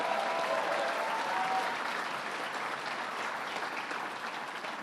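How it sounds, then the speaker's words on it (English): An audience at a Governor Cuomo offshore wind announcement claps steadily, a dense even wash of applause that tapers slightly toward the end. "Let's give her a round of applause."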